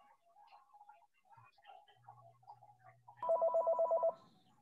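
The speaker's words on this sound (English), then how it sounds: "the phone was ringing" A desk telephone rings during a government subcommittee call, a rapid trilling burst lasting about a second, loud and close, after quiet background murmur.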